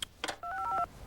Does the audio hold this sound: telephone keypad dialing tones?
yes